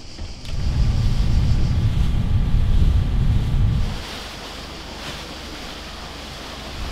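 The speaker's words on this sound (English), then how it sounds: "So it's nice if it's going and splashes." Wind-driven waves and splashing water heard from out on open water, a loud, rough rushing wash with heavy microphone wind buffeting that drops to a steadier, quieter surge partway through.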